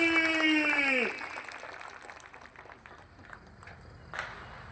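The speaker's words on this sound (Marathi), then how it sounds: "जोरदार टाळी सर्वांनी बाबांसाठी" Crowd applause at a BJP party workers' rally, a scattered patter of clapping that follows a drawn-out shout from the stage and continues under background noise.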